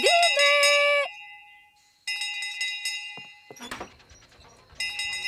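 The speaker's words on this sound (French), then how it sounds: "La cloche! La cloche!" Bright metallic chimes of a bell ring out in short clustered strikes, pausing and returning, with a clattering knock between the rings, in a cartoon.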